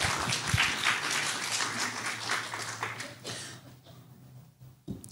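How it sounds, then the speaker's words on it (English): Applause from a gathered congregation as Peter returns to his seat after sharing, a dense spread of clapping that gradually thins and fades toward the end with a final stray clap. "give Peter a clap as he goes back to his seat"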